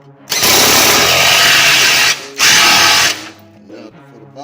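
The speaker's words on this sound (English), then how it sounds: "We run it with this impact." Impact wrench tightening lower control arm bolts on a Ford Fiesta, two loud close bursts of rapid hammering whir, the second shorter, followed by quieter shop noise.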